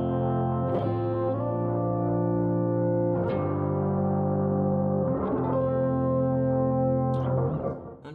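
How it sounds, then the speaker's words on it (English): An electric guitar through hexaphonic fuzz and an amp modeler plays sustained, heavily processed chords, each new strum arriving every couple of seconds with a thick, buzzy tone and no voices. "we've just got a fairly normal guitar sound coming from this pickup through an amp modeler"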